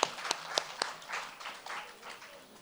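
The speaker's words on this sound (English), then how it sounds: "let's give him a big round of applause." An audience at a talk breaking into applause, with a few sharp early claps settling into a dense, moderately loud patter of clapping that slowly fades.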